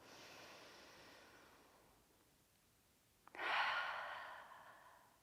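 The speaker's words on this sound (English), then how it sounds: "inhaling through the nose and exhaling through the mouth" Slow, soft breath drawn in through the nose and then a louder, airy exhale through the mouth during a yoga class, close and alone without speech.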